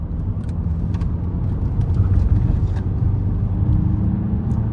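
A car taken through a bend at about 72 km/h, heard from inside as a steady loud low road and engine rumble with tyre noise, continuous throughout and without speech.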